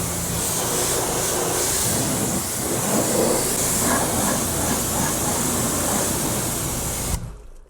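A water hose sprays a steady, loud, close hiss as it rinses the paint of a freshly cleaned car. The hiss runs unbroken for about seven seconds, then cuts off abruptly.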